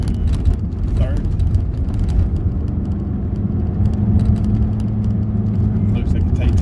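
A steady, low engine drone from inside a Mk3 MR2 Roadster, a continuous rumble with a slight change in pitch partway through after a downshift, with faint talk underneath.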